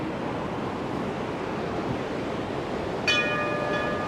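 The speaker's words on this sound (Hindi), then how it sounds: "पूरे उफान पे सरस्वती नदी का यहाँ से उद्गम हुआ है" The Saraswati river at its source near Mana village by Badrinath, rushing in full spate: a loud, dense, unbroken roar of water close by, with a brief faint whistle-like tone near the end.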